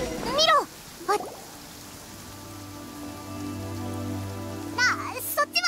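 Steady rain pattering in a Genshin Impact game scene, a continuous wash of drops on surfaces with a low hum beneath, while voices speak briefly at the start and end.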